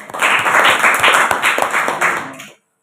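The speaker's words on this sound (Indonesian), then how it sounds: "Tepuk tangan." A small group at a Sidi catechism class orientation claps hands, a close, lively burst of irregular claps lasting a couple of seconds before stopping abruptly into silence.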